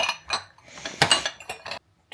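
Glass ice cream dishes clink and knock against each other as they are handled, a few sharp, close contacts spread over two seconds before falling silent.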